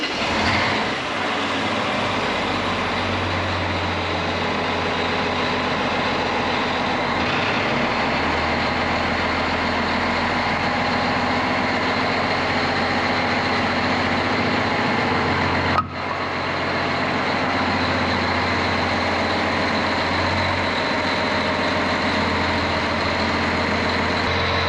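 A tracked vehicle's engine idling and reversing during a bogie wheel seal repair, a steady heavy low rumble sustained throughout with a brief sharp knock partway through.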